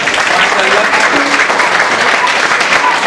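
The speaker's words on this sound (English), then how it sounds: "Clap for him." A high-school classroom claps for a student, a loud, dense and steady burst of many hands filling the room from start to finish.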